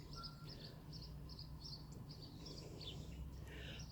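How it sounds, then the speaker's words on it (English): A small bird sings outdoors on a winter day, repeating short bright chirping phrases at a steady pace, faint and somewhat distant over a low background hum, with no talking. "that bird keeps singing. If I'm going to talk, the bird sings."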